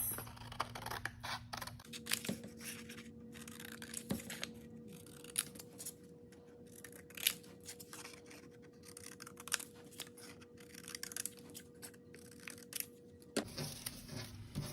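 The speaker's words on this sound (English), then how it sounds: "Now we're going to cut at the creases." Scissors cut through folded paper along its creases during a fraction art craft, a faint run of small close snips and scratchy rustles under a low hum. No one speaks.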